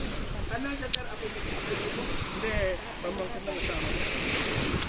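Ocean waves washing ashore at a white sand beach, a steady surf hiss mixed with gusty wind noise across the microphone and faint background voices.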